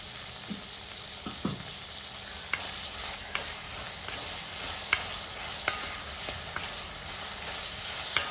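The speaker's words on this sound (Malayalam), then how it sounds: "നമ്മൾ വറയിലിട്ടിരിക്കുന്ന സാധനങ്ങൾ ഇളക്കി കൊടുക്കണം" Ingredients for Kerala-style sambar being stirred in a frying pan, with a steady sizzling hiss and intermittent scraping clicks from the spoon. No talking.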